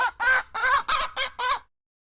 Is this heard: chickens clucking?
yes